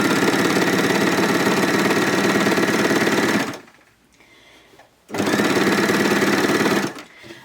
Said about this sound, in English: I'm just using a basic 4-thread stitch, just a standard wide one